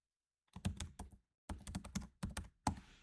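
Keys tapped on a computer keyboard while a folder name is entered, short bursts of quick clicks separated by brief pauses, close and quiet with no talking.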